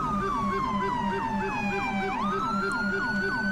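Ambulance siren in the police-patrol game GTA V LSPDFR, a loud close wailing and yelping pattern that cycles rapidly and shifts pitch partway through, with other vehicle sound beneath.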